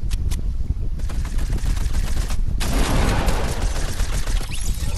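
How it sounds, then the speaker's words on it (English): Rapid, loud gunfire in a Fortnite-style battle royale game, with dense overlapping automatic bursts and a sustained barrage filling the second half. "I'm getting shot at."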